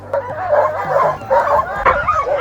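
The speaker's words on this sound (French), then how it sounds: "on est en train de préparer les chiens" Sled dogs being readied for an Arctic expedition bark, yip and whine loudly and close by in an excited, overlapping chorus.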